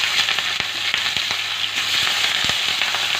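Prawns crackle and sizzle in hot mustard oil, a dense close frying hiss punctuated by sharp popping spatters as the pieces go into the pan.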